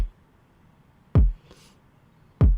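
Two deep, punchy kick drum hits spaced over a second apart, each with a sharp attack and quick decay, plus a faint soft noise burst between them.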